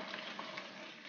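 Onions and meat frying in a pot for Algerian okra stew make a steady, close sizzle with a dense crackle that runs evenly throughout, no voices over it.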